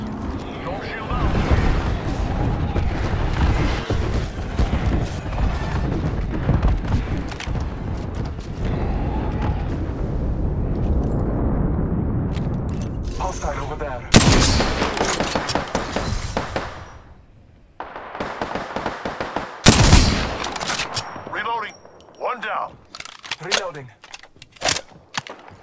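Dense, sustained gunfire and crashing impacts from Apex Legends, with bursts of shots, explosive cracks and shattering, while game voices and speech run through the action.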